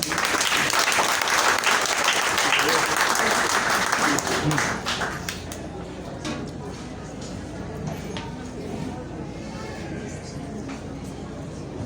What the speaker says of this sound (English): please give a resounding applause for our DAFI President, Lito Pepito.